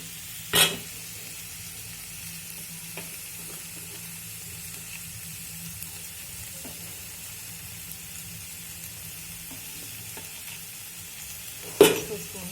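Spices such as turmeric and red chilli powder being stirred into taro root stew frying in a home kitchen pan, a soft steady sizzle with a couple of sharp spoon scrapes near the start and end.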